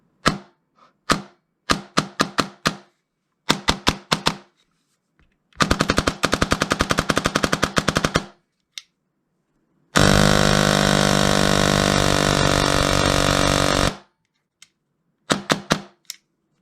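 Sharp, loud bursts of an M4 airsoft electric rifle built for 55 rounds per second: single semi-auto shots in quick groups, then long sustained full-auto strings, separated by silence.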